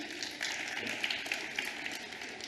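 Audience applause at the ANC's 6th policy conference, a dense, steady wash of many hands clapping at moderate level for a couple of seconds with a few sharper claps standing out, no voices over it.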